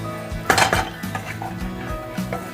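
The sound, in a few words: mixing roasted peanuts into samosa stuffing in a bowl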